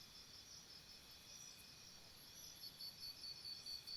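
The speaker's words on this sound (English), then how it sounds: "You can hear the crickets around you" Crickets chirp in a steady, faint, continuous chorus around a calm outdoor nature setting, with no talking over them.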